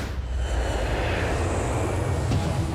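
A real airplane engine at a working airport gives a steady, loud broadband roar with a rising whine, continuous and close throughout, with no speech.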